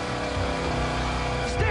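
A car driving into a park, its engine a steady close drone that swells slightly near the end, with excited voices talking over it.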